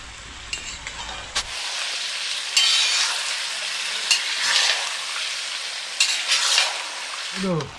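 Curry sizzling in a pan during the final frying stage, loud crackling broken by repeated scraping stirs and clinks of the utensil, heard up close with no speech.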